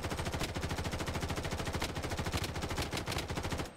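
Rapid automatic fire from an M4A1 rifle in the shooter game Blood Strike, a steady fast rattle of shots running unbroken throughout at close range.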